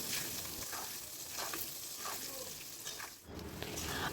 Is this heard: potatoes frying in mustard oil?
yes